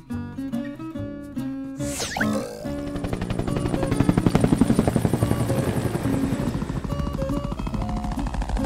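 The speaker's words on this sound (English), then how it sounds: "Helicopter." A helicopter's rotor chops loud and steady, a close rapid thumping pulse that swells in after a brief lead-in and keeps beating to the end over a music bed.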